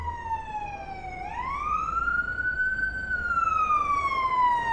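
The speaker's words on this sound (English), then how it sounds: "There's the ambulance." An ambulance siren wails steadily nearby on a street in West Point Grey, Vancouver, its pitch dipping then rising and sweeping slowly, over a low rumble of road traffic.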